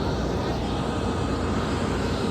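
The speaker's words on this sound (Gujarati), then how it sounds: "પ્લેન ને એવું બધું આવે છે, આવે છે, જાય છે, ઉડે છે" Airplane engines at an airport produce a steady, loud broadband roar with no breaks.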